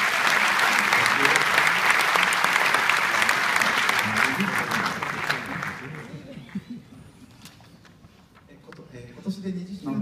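An audience at an award ceremony applauds a professor: loud sustained clapping for about six seconds, then fading out as a voice begins speaking.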